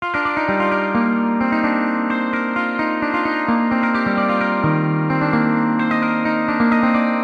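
Electric guitar strums chords steadily and continuously, with a bright, effect-laden tone of echo and chorus, loud and alone.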